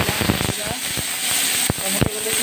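Tomatoes dropped into hot oil with fried mustard seeds give a loud, crackling sizzle with sharp pops and bursts, steady hiss running underneath.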